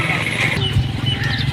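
A mare near a jungle shrine in a village, hooves clopping close by with a brief whinny, short and fairly loud.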